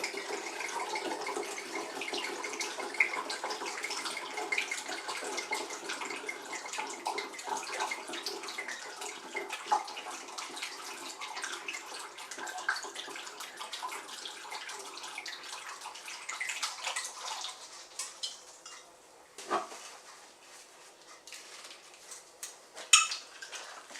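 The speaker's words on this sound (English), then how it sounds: "Now all that's left to do now is add your moonshine" Moonshine is poured into a drink, giving a steady, fairly faint trickling splash with light glassy clinks near the end.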